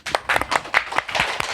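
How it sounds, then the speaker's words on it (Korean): A group applauds with brisk, overlapping claps, a lively steady clatter from a small crowd nearby. "강사님 박수로 맞이해주실까요?"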